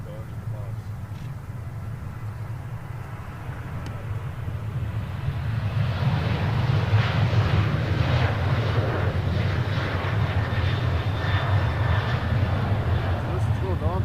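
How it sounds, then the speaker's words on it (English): An airliner passes low overhead near Nashville International Airport, a broad roaring engine rumble that swells from a steady drone to a loud, sustained wash and stays strong to the end. "they're flying right over my house at the exact moment"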